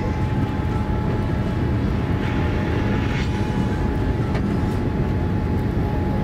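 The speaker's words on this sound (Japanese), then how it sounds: "16ライトですかね、離陸の模様ですね。" Inside the cabin, near the rear seats of an early-morning airliner bound for Osaka, the takeoff roll from runway 16R brings a loud, unbroken engine roar with a constant steady whine and no voices.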